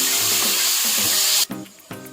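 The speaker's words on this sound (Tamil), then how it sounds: "இப்போ இதில் நம்ம கட் பண்ணி வச்சுருக்கிற தக்காளி அது கூட சேர்த்துக்கலாங்க" Chopped tomatoes hit hot ginger garlic paste in a pan for mutton kulambu, a loud, close sizzling hiss that cuts off abruptly partway, leaving a few faint clatters.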